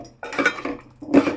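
A big ladle stirs oil in a cooking pot, making two short bursts of metallic scraping and clinking close by, with a brief pause between them.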